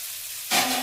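Moong dal tempering in hot oil starts to sizzle suddenly halfway through, as a loud, close hiss of frying that holds steady after a quiet start.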